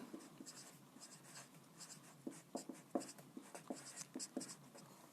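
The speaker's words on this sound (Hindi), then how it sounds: "इसको मिटा के दोबारा लिखता हूँ।" Chalk or marker writing on a classroom board after erasing, a run of quick scratchy strokes and taps in irregular rhythm, close and fairly quiet with no talking.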